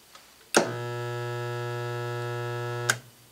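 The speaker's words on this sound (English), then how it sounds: "as I increase the setting, you can hear that the weld time is longer" A resistance welder gives a loud, steady electrical hum for a single weld cycle of about two and a half seconds, switching on and off abruptly with sharp clicks at the start and end, and the air is quiet around it.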